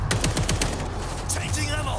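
An automated turret in the World War Z shooter fires a rapid, loud burst of gunfire, evenly spaced shots rattling for over a second before fading into other game sounds.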